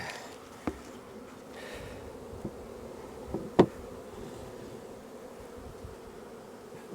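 Honeybees buzz steadily around a hive as it is closed up, a soft constant drone with a few light knocks and taps of the hive parts, no talking.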